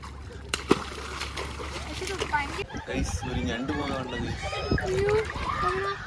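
Water splashes and sloshes up close while several people talk over it, from people in water.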